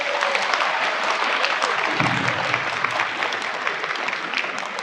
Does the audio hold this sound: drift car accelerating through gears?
no